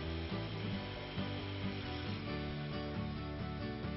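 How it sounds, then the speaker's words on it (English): A Festool TS 75 plunge-cut circular saw running steadily through a plunge cut in wood, its motor a continuous loud whir with slight shifts in load throughout. "All this Festool technology culminates with another perfect plunge cut."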